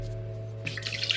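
A faint low hum, then a brief splashy trickle of liquid being poured, close and soft.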